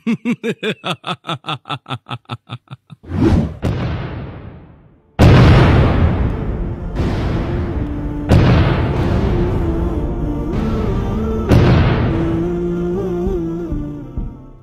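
Cartoon explosions in an animated Islamic cartoon about Palestine: a run of rapid rhythmic pulses, then several loud booming blasts that each crash in and rumble on, overlapping one another up close with no talk.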